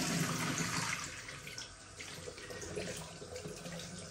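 Water runs steadily from a tap into a sink, a continuous close splashing hiss with a slight dip partway through and no talking.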